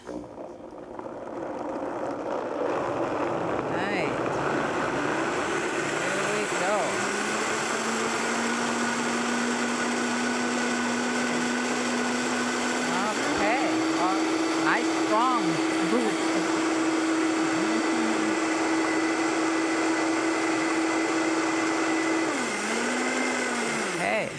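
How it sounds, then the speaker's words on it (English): A Vitamix blender runs continuously for about twenty seconds, blending canned beans: a loud, steady motor roar whose pitch shifts up partway through as the speed changes, then drops near the end, with no talk over it. "I'm just going to blend it up and we're going to add it to our broth"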